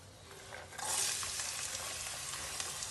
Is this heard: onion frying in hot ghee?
yes